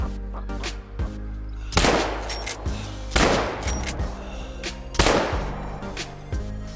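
Gunshots fired at a western capercaillie in a hunting video game: several sharp, loud cracks spaced a second or so apart, each trailing off into a rolling echo, over a low steady ambient hum.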